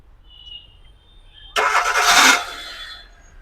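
Hyundai i20 Sports car engine starting: a quiet idle hum, then a short cranking burst as the engine catches and settles into a steady idle, heard close by.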